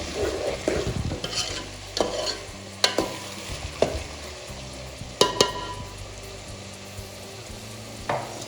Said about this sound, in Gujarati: હવે આપણે આમાં ટમાટર એડ કરી દઈશું બરાબર ગ્રેવી કરવાની છે